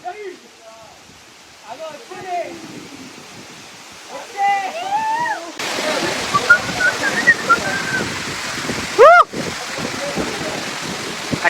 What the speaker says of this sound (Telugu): Katiki water falls.